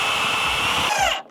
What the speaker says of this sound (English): we're gonna have to pre-drill